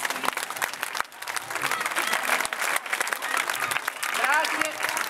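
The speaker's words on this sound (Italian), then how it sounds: "per prendersi il meritato applauso del pubblico" An audience applauds loudly and steadily at a live stage performance in Novi Ligure, Italy, with dense continuous clapping and crowd noise throughout and a voice speaking over it.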